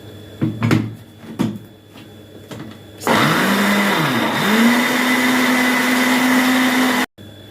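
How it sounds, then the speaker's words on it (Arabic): An electric blender grinds a rice kofta mixture, spinning up after a few clunks of handling and running loud and steady, its motor pitch dipping and recovering before it cuts off abruptly. "وهضرب الجزء ده في الخلاط وهضيف عليه الباقي حبه حبه"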